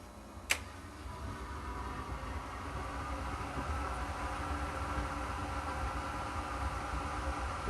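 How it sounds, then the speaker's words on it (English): A Murphy's Machines waste oil boiler with automated ignition runs in full operation, a low steady hum with faint rattling texture throughout, opening with one sharp click; no speech. "The humming sound you hear is the boiler unit in full operation."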